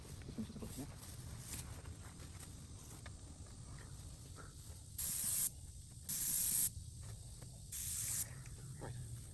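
Three short bursts of hissing spray from an airless paint sprayer, each lasting about half a second, over a low background rumble.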